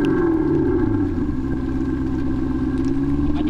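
Active electronic exhaust on an electric car, a synthetic engine note that imitates a petrol engine, heard as a loud, steady, droning hum near an idle with a faint rattle, in rain at a beach drag-race event.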